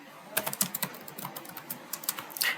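Quick bursts of keystrokes on a computer keyboard while Python code is typed, close and clear, irregular clicks with short pauses and no speech.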